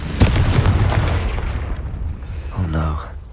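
A booming fiery blast from a Confringo spell in Hogwarts Legacy, one loud explosion with a rumbling tail and a few crackling bursts, followed by a shorter second swell.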